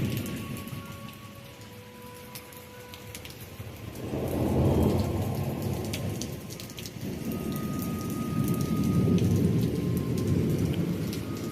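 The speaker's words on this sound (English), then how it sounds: "It's raining really hard and it's thundering really hard." Heavy rain pours steadily on surfaces during a thunderstorm while deep rolls of thunder swell twice over it, loud and close, with no voices.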